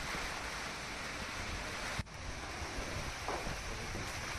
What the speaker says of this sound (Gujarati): ભારે પવન અને વીજળીના કડાકા ભડાકા સાથે વરસાદ થયો હતો